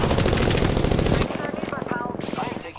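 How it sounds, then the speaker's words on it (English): Rapid automatic gunfire in the video game Apex Legends, a loud close burst of fast shots that drops to quieter repeated firing, with game voices mixed in. "I am taking fire, friends."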